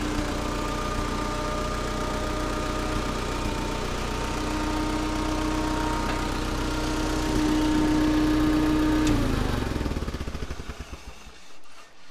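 A vintage Allis Chalmers forklift engine idles steadily up close, a loud continuous mid-pitched rumble with a slight uneven knock, then it cuts off near the end and the sound dies away.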